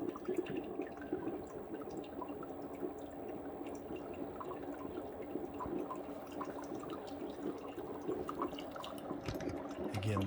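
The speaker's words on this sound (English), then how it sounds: "These things do drip forever." A Ninja CF082 coffee maker drips water and brew liquid faintly and continuously against a low hum, with scattered small splashes.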